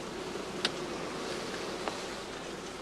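Bees buzz around straw skep hives in summer, a faint continuous hum with a couple of brief closer passes standing out.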